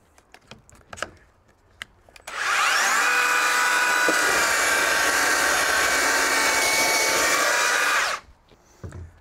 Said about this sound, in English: For the steps and the flat surfaces on the deck itself, I use this belt sander. It is cordless belt sander.